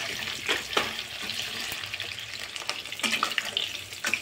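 Paneer sizzles in a hot pan while being stirred for paneer chilli, a steady close frying hiss broken by scraping stir strokes and a few sharper pops.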